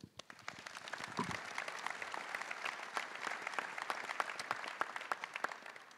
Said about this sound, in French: donc je crois qu'on peut encore les applaudir.